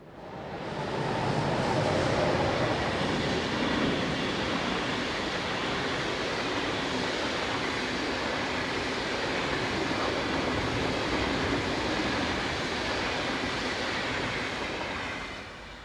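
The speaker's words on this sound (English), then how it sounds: "is about to pass with a Dusseldorf to Zurich Eurocity service" A Eurocity passenger train on the Dusseldorf to Zurich run through the southern Rhine Gorge rushes past in a loud, sustained roar of wheels on rail, with faint clicking and squeal, steady for about sixteen seconds with no voices.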